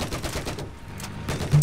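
Constant gunfire in a Battlefield 4 Conquest match on Golmud Railway, with bursts of shots and rattling automatic fire running throughout, ending in a louder, closer thump.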